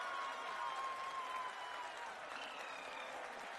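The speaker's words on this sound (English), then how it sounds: "People are applauding." Applause from a crowd gathered for a lunar landing broadcast, a steady, dense wash of clapping that stays at an even level throughout with no pauses.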